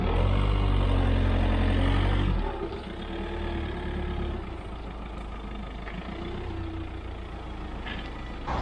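A vehicle engine labors close by as it drives in woodland, a heavy low drone that drops after a couple of seconds into a steady strained rumble, with no talking.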